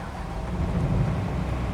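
Steady rain in a farming simulator video game, a continuous low rushing wash with a dull rumbling undertone, even and unbroken, with no voices.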